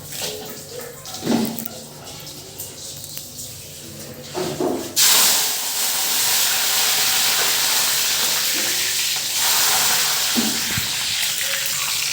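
Curry leaves and green chillies dropped into hot oil for egg biryani burst into a loud, sustained hissing sizzle that starts abruptly midway and holds steady, after quieter kitchen handling noises.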